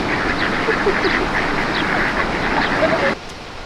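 Ducks quack repeatedly at the Waitangi Treaty Grounds in the Bay of Islands, several short calls over a steady outdoor background, ending abruptly.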